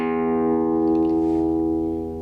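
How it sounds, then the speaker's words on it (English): A single plucked guitar string rings with a rich sustained tone and slowly fades away over about two seconds, alone and close. "So with this guitar, if I pluck a string,"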